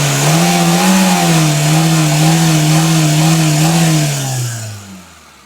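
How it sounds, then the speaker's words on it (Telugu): A Maruti WagonR engine is revved up close, a loud, steady tone that holds with a slight wobble for about four seconds and then falls away to idle as the throttle is released. "ఒకసారి ఇంజిన్ ఒకసారి రేస్ చేస్తాను చూడండి."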